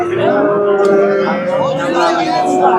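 A Kyrgyz-breed cow at a busy cattle market gives one loud, close, drawn-out moo with a wavering pitch, while a faint murmur of people carries on behind it.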